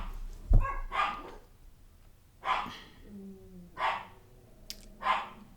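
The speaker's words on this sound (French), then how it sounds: "ils aboient." Dogs bark near a house in a few separate sharp bursts with pauses between them, close and clear, with no talking.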